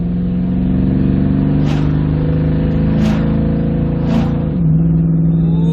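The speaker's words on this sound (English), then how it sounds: "like to hear that V8 sing" A Toyota Tundra's V8 engine rumbles loudly and steadily as the pickup climbs uphill on a cold engine, with a few brief surges in revs along the way.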